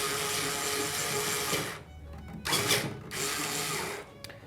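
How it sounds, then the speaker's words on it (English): A hand string winder turns the tuning machine of a double bass during restringing, giving a steady mechanical whirring and ratcheting grind that breaks off briefly, returns in a short burst, then continues, close and fairly loud. "we're going to grab our winder"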